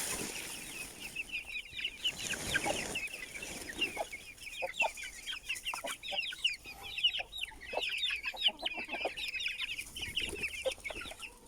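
Several chickens cluck and chatter continuously close by, with overlapping calls and occasional brief squawks, with no speech.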